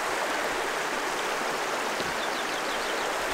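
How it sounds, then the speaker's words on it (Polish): A wide mountain river in Scotland flows steadily, producing a dense, continuous rushing hiss of water close by, with no voices. "Całkiem przyjemnie tutaj. Górska rzeka, szeroka."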